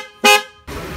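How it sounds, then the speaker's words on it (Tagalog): A single loud, brassy blast from an aftermarket loud horn on a 2020 Yamaha NMAX scooter, lasting about a quarter second, followed by a steady broadband rumble of engine noise. "indicator na naka-on yung ating loud horn"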